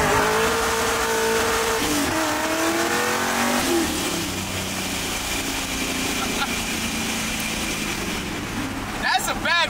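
An IROC Camaro with its T-tops off drives along, its engine droning loud and close, rising and falling as it revs, with tire noise and some voices talking over the motor.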